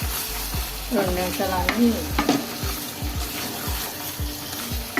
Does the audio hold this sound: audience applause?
no